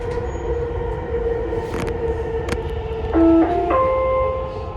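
A Dubai Metro train runs along the line with a steady mechanical hum and rumble. Tonal whines and wheel squeals rise near the end, close and continuous, with no voices.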